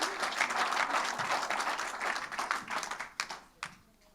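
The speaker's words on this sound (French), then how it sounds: "Vous pouvez encore l'applaudir." Audience applauding an award winner at the Madame Artisanat d'Alsace 2022 ceremony, a full burst of clapping that thins out toward the end into a few last scattered claps.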